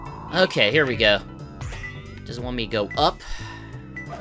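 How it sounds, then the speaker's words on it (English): A cat in the Sonic Adventure 2 video game meows several times, wavering pitched cries in two bursts, heard clearly alongside a person talking. "And that's a cat."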